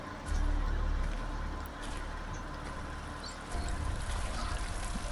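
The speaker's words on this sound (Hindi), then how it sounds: "अंदर पानी तो भरने लग गया है, आवाज़ आ रही है।" Water runs from a tap into a container, a steady close trickle and splash with a low rumble that swells near the start and again toward the end.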